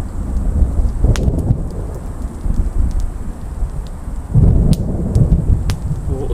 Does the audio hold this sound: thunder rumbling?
yes